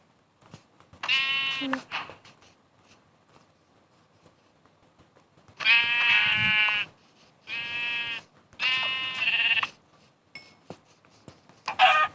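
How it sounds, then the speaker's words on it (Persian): Minecraft sheep bleat in four separate bursts, one early and three close together later, each a loud, nasal, wavering cry over near silence. "سه تا گوسفند"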